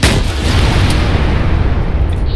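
Loud, sustained roar of heavy vehicle weapon fire from a BMP in the ARMA 3 video game, a dense continuous blast that fills the whole moment without pause.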